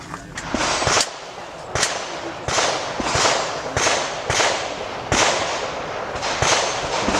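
Glock G30 subcompact pistol firing on steel plates: about nine sharp shots in an uneven string, each crack loud and close with a brief ringing tail from the steel.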